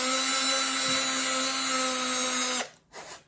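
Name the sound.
Black & Decker drill with small bit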